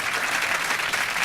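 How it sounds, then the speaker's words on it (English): Audience applauding Stephen Fry at an interview event on digital language, a dense, even burst of crowd clapping with no talk over it. "could you show him your appreciation by giving a round of applause"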